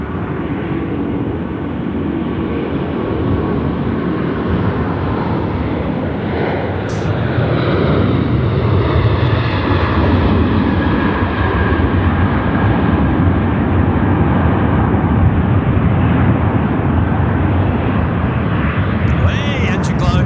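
A steady, loud roar of an airplane engine at night at Sydney Airport fills the scene, building slightly and holding constant throughout.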